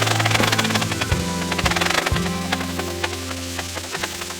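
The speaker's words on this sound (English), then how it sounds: "Now we'll go ahead and start chopping." Knife chopping ingredients for chicken mojito street tacos on a Blackstone griddle, a quick run of close, sharp board taps over a steady background hum, with no talk.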